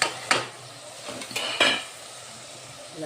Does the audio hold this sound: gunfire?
no